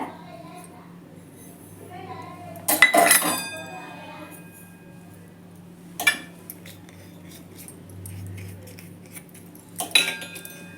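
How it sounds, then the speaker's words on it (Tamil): Ingredients are stirred into dosa batter for cauliflower masala dosa, with a spoon clinking sharply against a metal bowl in a few separate bursts amid quiet rustling and a steady background hum. "இதெல்லாம் நம்ம மாவில் சேர்த்து நல்லா கலந்து"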